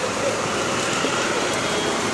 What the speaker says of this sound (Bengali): আবারও মুষলধারে বৃষ্টি শুরু হয়েছে